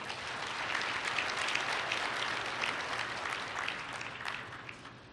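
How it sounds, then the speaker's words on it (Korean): An audience at the opening ceremony of a Korea–OECD international education conference claps to welcome representatives stepping forward, a steady, dense round of applause held throughout at moderate distance. "여러분 큰 박수로 환영해 주시기 바랍니다."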